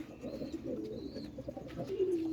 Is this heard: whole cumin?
no